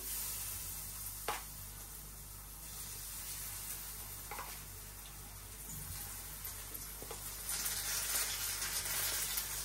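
Cauliflower fritters frying in hot oil, a steady broadband sizzle and hiss that swells louder near the end, with a few sharp crackles and pops rising out of it.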